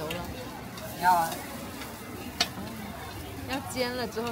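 Roujiamo flatbread frying on a hot griddle at a Chinese street food stall, giving a steady close sizzle that runs throughout while people talk nearby.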